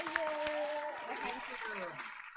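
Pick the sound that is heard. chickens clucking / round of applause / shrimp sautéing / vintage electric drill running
round of applause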